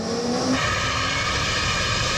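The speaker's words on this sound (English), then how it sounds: "Dial the fan up. Here comes the fan. Throw the throttle." McMurtry Spéirling electric fan car at full throttle with its downforce fan running, a loud, close, steady high-pitched whine that jumps and intensifies partway through, then holds, with no voices.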